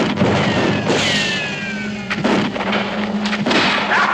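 Gunfire in a frontier western setting: a couple of sharp, booming shots ring out amid an outdoor scene with a thin whistling tone, the reports sounding fairly close and distinct.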